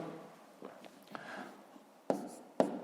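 Pen or chalk scratches as numbers are written out during column multiplication in a fifth-grade maths lesson, soft brief strokes ending in two sharp taps, close and quiet.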